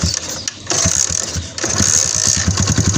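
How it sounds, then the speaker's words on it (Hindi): A Honda CD 70 motorcycle with a starting fault is kicked over: loud ratcheting clicks from the kick-start lever, then a quick run of rhythmic chugging pulses as the engine turns over, close by and without talking. "ये मैं किक लगाने लगा हूँ"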